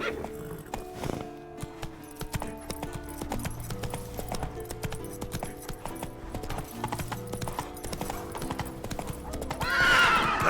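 Horse galloping in The Witcher 3, rapid rhythmic hoofbeats with a neigh, set against game music and ambience, loud and close with a brief rush of wind near the end.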